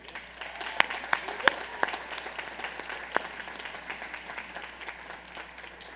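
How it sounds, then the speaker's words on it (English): Outdoor audience at the 2014 Union College commencement applauds campus staff. Scattered sharp claps rise into a soft, diffuse wash of clapping from a distant, spread-out crowd, with some talking mixed in. "Please join me in thanking them with your applause."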